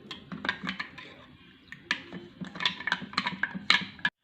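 A spoon stirs a sharbat drink in a glass, making quick irregular clinks and taps in short bursts with a brief pause, close and fairly quiet.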